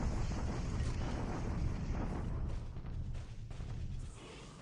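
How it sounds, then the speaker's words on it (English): Dense, continuous rumble of naval bombardment explosions from the Pacific war strategy game War in the Pacific, striking Singapore, a loud sustained low roar with scattered booms and no clear gaps. "And this is another bombardment by us."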